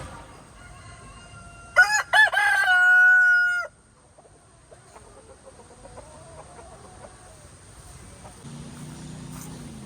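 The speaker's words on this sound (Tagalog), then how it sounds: "Daming manok. Ayan yung manok ah." A rooster crows loudly up close, followed by softer clucking from many chickens nearby.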